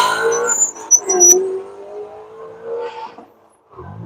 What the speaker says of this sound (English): The CTS-V from Michelin down and away.